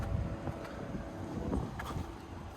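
Gusty wind buffets outdoors beside a 2026 Cadillac Vistiq, a steady low rumbling roar with microphone buffeting that swells and eases, no voices.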